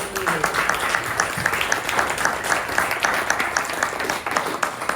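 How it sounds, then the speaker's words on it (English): A crowd applauds the speakers at the close of a club comedy debate, with steady, moderately loud clapping for several seconds and some voices mixed in. "Can we give all our speakers a big round of applause?"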